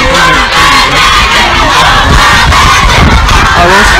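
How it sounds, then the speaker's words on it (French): Thousands of children shouting together at an outdoor gathering in Côte d'Ivoire, a loud, dense crowd din of overlapping cries and yells that fills the whole stretch without pause. "vous voyez avec nous, ces milliers d'enfants qui sont en train de crier"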